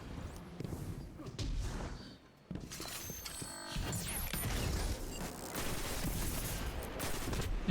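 Rapid video game gunfire from the Summoner rifle with Onslaught pours out as a dense, continuous stream of shots, broken once by a short pause, with faint talking underneath.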